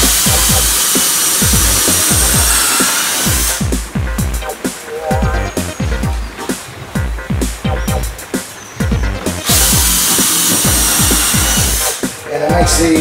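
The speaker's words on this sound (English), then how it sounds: "So all I do is just drill in." A power drill whirring in repeated bursts, pulsing as it drives screws into a wooden drum riser frame, loud and close, with brief pauses between runs.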